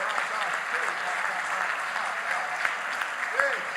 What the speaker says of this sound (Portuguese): Vamos dar uma salva de palmas para esse Deus.